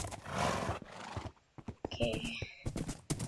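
Horse sounds in Minecraft: a rapid run of hoof clip-clops, then a high whinny with hoofbeats before and after it, close and moderately loud, with a brief spoken word mixed in.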